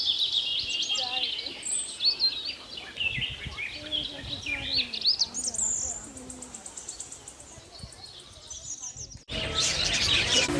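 Birds chirp and tweet near the main gate of a bird park, with bright trills and calls repeating over a murmur of distant voices and insect-like buzzing, growing louder toward the end.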